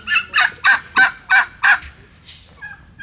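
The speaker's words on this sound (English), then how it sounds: "your new turkey's loud" A Narragansett turkey gobbling loudly and close by, six rapid rhythmic gobbles in a row followed by a few fainter trailing calls.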